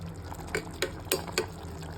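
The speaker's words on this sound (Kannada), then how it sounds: "ನಮಗೆ ನೀರು ಬೇಕು, ಸ್ವಲ್ಪ ಗ್ರೇವಿ ಟೈಪ್ ಇರಬೇಕು, ಹಾಗಾಗಿ ನಾವು ನೀರು ಹಾಕ್ತಾಯಿದ್ದೀವಿ" Water is poured into a dhaba-style mutton curry. Four separate splashing pours fall at a steady pace over a faint background hum, close by and without talk.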